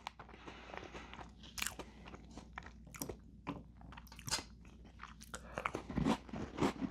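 Popcorn from a snack feast is eaten up close, with repeated crisp crunches and wet chewing in an irregular rhythm, loud and close with no talking.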